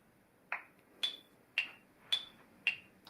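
A metronome for tamborim practice ticks five sharp, evenly spaced beats, each a short bright ping about half a second apart, clear against near silence.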